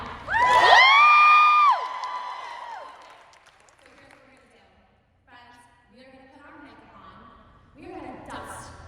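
Audience in a large venue yells and cheers in a loud, sustained burst that fades after about two seconds, followed by scattered shouts and talk over lingering crowd noise.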